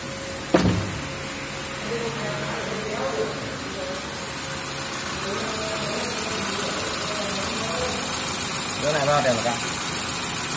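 A car engine with freshly topped-up coolant cranks and catches with a sharp start, then settles into a steady, even idle close by, while voices murmur faintly in the background.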